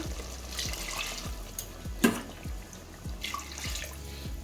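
Boiled water poured into a chicken biryani pot, a steady splashing trickle running the whole time with a sharp splash near the middle and a faint low rhythmic thumping underneath.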